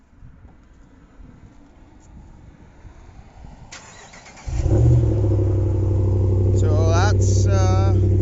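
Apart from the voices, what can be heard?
Ram truck engine remote cold start, Solo Performance muffler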